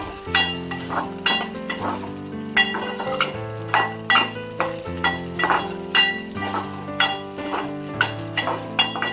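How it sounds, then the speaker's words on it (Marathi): Sago pearls fry in ghee for a vermicelli kheer, a loud, close crackle with rhythmic stirring strikes and clinks of a spoon against the pan, as music plays steadily underneath and no one speaks. "तुपात छान परतून घ्यायचे साबुदाणे."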